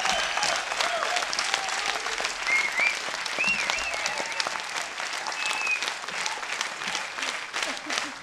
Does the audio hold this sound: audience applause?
yes